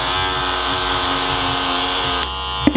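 Cordless hair clipper fitted with a fade blade runs with a loud, steady high-pitched electric buzz, then its tone shifts and a couple of brief clicks of handling follow at the end.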